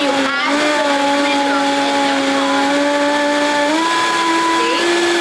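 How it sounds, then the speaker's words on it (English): An immersion blender purees soup in a pot with a loud, steady motor whine that holds its pitch, briefly stepping up partway through, and runs close and continuous for the whole stretch. "If you have an immersion blender, you can do this in a food processor or a blender."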